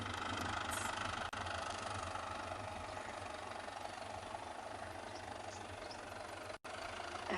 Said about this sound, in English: Oh, it's a little tractor. It's the sound.